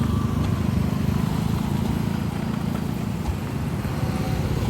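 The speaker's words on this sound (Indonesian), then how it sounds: "kita lihat arus kendaraan pada siang hari ini cukup padat sekali di jalan lintas Padang Bukit Tinggi" Heavy midday traffic on the Padang–Bukittinggi road near a flyover construction site, a dense, steady rumble of passing cars and motorcycles close by with low engine drone throughout.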